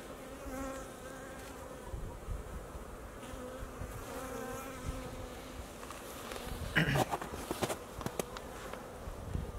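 Honey bees fly around apiary hives on a February day, a steady soft buzzing hum of many insects with a few louder passes close by near the end.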